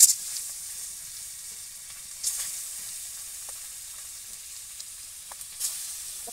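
Food sizzling in hot oil in a wok, a steady soft frying hiss with a few brief louder crackles and stirring scrapes, fairly quiet and with no talking.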